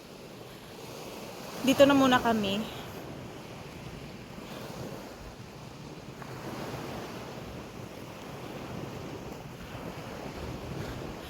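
Sea waves wash against a rocky beach in Greece in a continuous, breezy surf wash mixed with wind buffeting the microphone. A person speaks briefly near the start.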